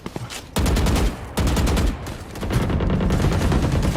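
Rapid bursts of automatic gunfire from the video game Valorant, sprayed through smoke, rattle loudly and close in dense volleys with brief pauses between them.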